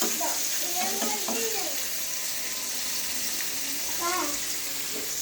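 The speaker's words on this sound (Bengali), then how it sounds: "মাছগুলো এক সাইড ভাজা হয়ে গেছে। এবার উল্টে দিচ্ছি আরেক সাইড ভাজা হওয়ার জন্য।" Fish pieces fry in a pan and are turned over to cook the other side. A steady sizzle runs throughout with a few scraping and stirring sounds, and a voice is heard briefly underneath.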